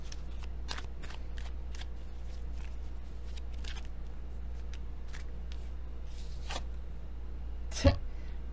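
Quiet, close shuffling of tarot cards: soft, irregular riffles and flicks over a low hum, with one sharper tap near the end.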